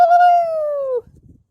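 A single drawn-out crowing call, loud and close, holding a steady pitch before sliding down and cutting off after about a second, followed by faint low rustling.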